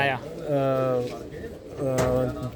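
A pigeon kept by a Punjabi pigeon fancier, the father of a hen bird, coos in two close, resonant rolling phrases with a short pause between them.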